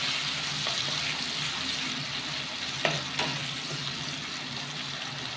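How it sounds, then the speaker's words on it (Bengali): Ginger-garlic paste fries in a pan with a steady, close sizzle and soft stirring, marked by a couple of sharper scrapes partway through. "ভালো করে একটু ভেজে নেবো।"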